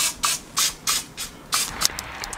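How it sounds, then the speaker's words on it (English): Cooking spray hisses onto the tops of potato patties in several short, close bursts, each a sharp airy spray with brief pauses between. "Take your cooking spray, just spray the top."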